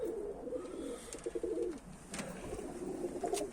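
Homing pigeons, racing or flight pigeons kept in a loft, coo in soft, repeated low rolling phrases, fairly close, with faint background rustles and no talking.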